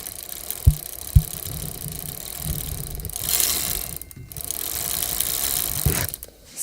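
Gear shifting on a Fiido X e-bike: two sharp mechanical clicks close together, then softer ratcheting and rattling of the drivetrain, quiet and close, with no voices.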